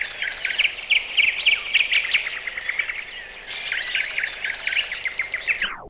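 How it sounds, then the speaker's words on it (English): Bright, continuous bird song from a sound effects vinyl record, with rapid trills and chirps, loud and close, steady for several seconds before cutting off abruptly. "The birds sound like this."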